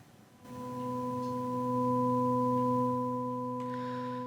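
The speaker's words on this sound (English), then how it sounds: "here we happen to have multiple sine waves all coming in and giving us this tone that we're hearing here" A steady additive-synthesis tone built from several stacked sine waves, entering after a brief silence and holding evenly, clean and electronic, with a faint click near the end.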